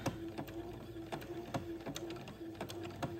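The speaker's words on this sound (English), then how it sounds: "I'm going to proceed to zigzag this lace to the entredot" A sewing machine runs a zigzag stitch joining lace to entredeux for a baby gown, giving a steady mechanical hum with evenly spaced needle ticks alone, close and moderately quiet.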